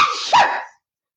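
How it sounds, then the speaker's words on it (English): A woman sneezes once up close, a short sharp burst after a brief breathy lead-in, then quiet. "And I'm about to sneeze."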